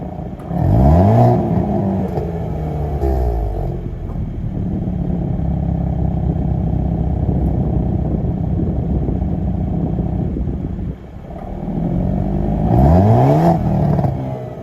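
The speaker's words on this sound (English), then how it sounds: "let's do a few exhaust clips real quick because this thing's insane" A 2022 Hyundai Kona N engine revs hard twice, rising and falling throatily through the exhaust, with a sustained loud idle rumble between the bursts.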